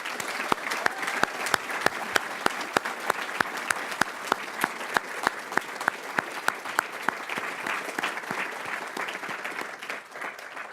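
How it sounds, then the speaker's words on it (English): Sustained audience applause at a school awards and graduation ceremony, a dense, steady wash of clapping lasting the whole stretch with sharp, evenly spaced louder claps or clicks standing out on top, then tapering slightly at the end. "So now I ask everyone to join me in a last one more round of applause to all the winners and all the graduates here"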